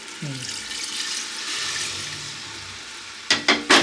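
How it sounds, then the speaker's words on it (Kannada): Water poured into a simmering gravy in a pan with a soft hiss, followed by a few quick splashy bursts at the end. "ಈಗ ಇದನ್ನ ಹಾಕ್ತೀನಿ ನೋಡ್ರಿ ನೀರು"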